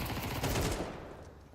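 Automatic gunfire crackles in dense, rapid bursts during a Counter-Strike firefight at a competitive match, loud at first and then thinning out toward the end.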